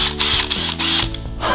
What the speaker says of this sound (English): This is a cordless drill. It gets power from its battery.